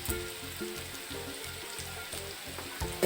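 Onion with curry leaves, asafoetida and turmeric powder sautéing in oil for a yogurt curry, giving a steady close sizzle with soft stirring pulses throughout and no talk.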